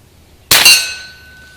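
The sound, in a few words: air gun pellet hitting a metal gong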